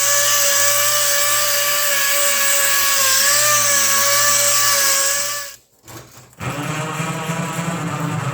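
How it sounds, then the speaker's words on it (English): A power sander whines steadily and loudly on a steel floor pan repair piece, a high buzzing tone holding for several seconds before stopping abruptly, then starting up again. "So I'll get this sanded and we'll get a bead put on it."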